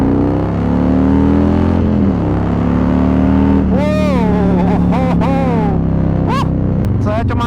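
A loud, deep Harley-Davidson Road Glide CVO engine (2032 cc, Stage IV tune) rumbles steadily and revs up several times, with sharp rising whines between bursts, close by.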